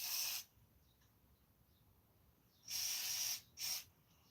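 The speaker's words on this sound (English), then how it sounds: "I'm gonna put some WD." WD-40 lubricant sprays onto suspension bolts in three quiet bursts of hissing aerosol: one short spray, a pause, then a longer spray and a brief final squirt.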